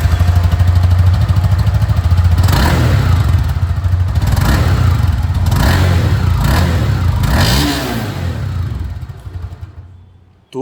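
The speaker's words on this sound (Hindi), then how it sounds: "अब यहाँ पर जो F है इसकी भी आवाज़ आप लोग सुन लीजिए।" A Honda CB300F motorcycle with an oil-cooled engine runs loudly up close, idling with a steady low rumble, then revving in several rising bursts before settling back and fading to silence.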